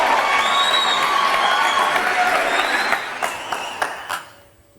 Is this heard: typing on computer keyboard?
no